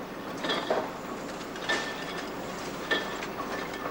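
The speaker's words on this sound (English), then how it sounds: "The bobbins are put on the loom." A carpet loom with bobbins loaded runs steadily, giving a continuous mechanical clatter with faint periodic clicks and ratcheting knocks over a constant machine drone, with no voices.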